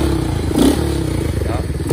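A Honda 67 motorcycle engine running loud and close with a steady, rough mechanical drone, while someone talks over it.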